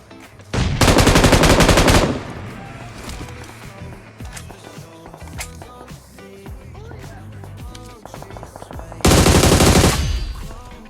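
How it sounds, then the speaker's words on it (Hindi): Bursts of automatic gunfire from houses in the BGMI battle royale game, with two long loud close volleys and scattered shots and footsteps between them. "सामने वाले घरों से भी गोली चलने की काफ़ी ज़्यादा आवाज़ आ रही होती है"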